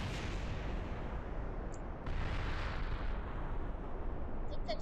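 Rocket engines firing at liftoff in Kerbal Space Program, a dense continuous roaring rumble that stays loud and unbroken throughout, with a slight surge partway through.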